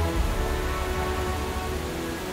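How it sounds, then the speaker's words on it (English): Steady rain falls in the video game Wild Hearts, a dense even hiss with a low rumble underneath, continuous and fairly loud with no talking. "here comes the rain"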